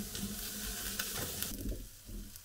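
Onion sizzles as it is stir fried in a pan, a quiet close hiss broken by soft stirring scrapes and light taps, with no speech.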